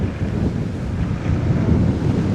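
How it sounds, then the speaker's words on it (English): Strong wind gusts through palm trees on the coast at Costa Teguise, Lanzarote, making a loud, steady low rush with rumbling buffets on the microphone and no voices. "some of them starting to tilt as the wind pushes against them"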